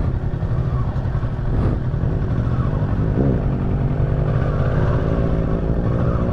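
A brand-new Kawasaki Versys 650 ABS Tourer motorcycle, with only 4 km on it, idles close by outdoors at a fort, giving a steady low engine rumble throughout with occasional faint background voices.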